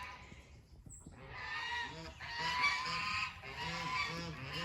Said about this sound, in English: In the chicken coop, we still have the Rhode Island Reds. We picked up some Silkies.